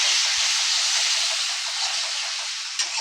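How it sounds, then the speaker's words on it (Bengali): Whisked yogurt sizzles as it goes into a Bengali egg curry with potatoes, giving a steady, loud hiss that holds close up for the whole stretch, with no talking. "একটু 2 চামচ ফ্যাটানো দই দিয়ে দিলাম।"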